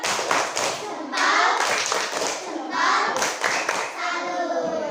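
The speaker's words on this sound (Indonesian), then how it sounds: "ya, tepuk salut" Classroom children clap hands in a loud, patterned cheer, bursts of quick claps with brief pauses between, close and energetic, with young voices mixed in.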